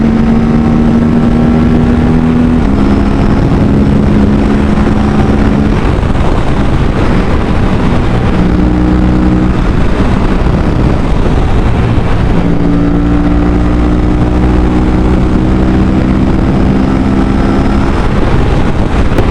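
An Aprilia RS457 motorcycle is pushed hard, its engine roaring loudly and climbing in pitch through repeated gear changes, with heavy wind rush throughout.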